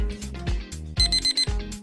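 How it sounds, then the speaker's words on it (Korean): Cartoon alarm clock rings as a rapid series of bright, loud electronic beeping bursts, close and alone. "웬 알람 소리지?"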